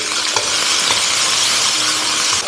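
Mushroom slices, ginger and aromatics hit hot vegetable oil in a wok, giving a loud, steady sizzle with faint stirring clinks throughout.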